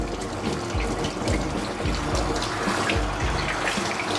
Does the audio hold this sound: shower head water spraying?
yes